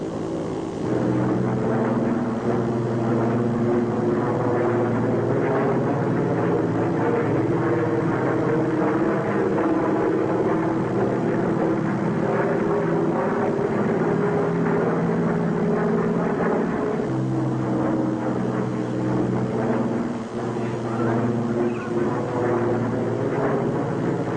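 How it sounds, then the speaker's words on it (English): A propeller airplane drones steadily overhead with a continuous, loud engine roar that holds through the whole stretch, while a voice speaks briefly over it. "That plane is flying in the wrong direction."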